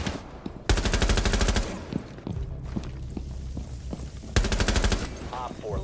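A tactical shooter game fires a weapon through a wall in two sustained rapid automatic bursts, loud and close, separated by shuffling footsteps and small impact thuds.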